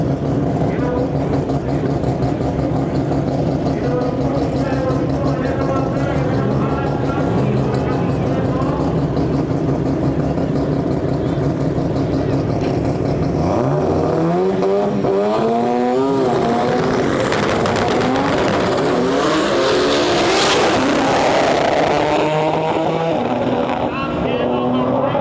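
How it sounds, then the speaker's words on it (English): Drag race between a silver C6 Corvette and a Toyota Starlet: loud engines rev and roar, then rise sharply in pitch as the cars launch and shift, with an announcer talking over the noise. "Josh Manning with that beautiful silver C6 Corvette. And we got a spicy Toyota Starlet in our lane."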